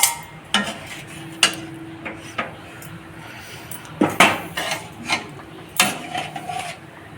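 Fried chhana pieces go into a pot of potato curry, giving a series of sharp clinks and scrapes of a utensil against the pot at an irregular pace, with a soft simmering hiss underneath and no talking.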